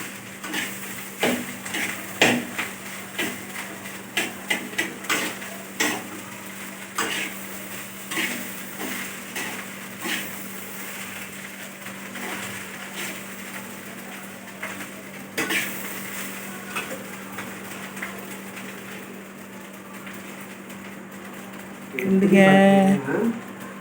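Ginger garlic paste frying in a pan for hotel-style fried rice, with steady sizzle and repeated metal clatter of stirring against the pan, louder scraping near the end, while a person talks throughout.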